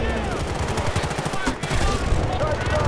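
Heavy automatic gunfire crackles in the Battlefield Bad Company 2 video game, dense rapid shots close by, with a brief lull midway before firing resumes and a player talking over it.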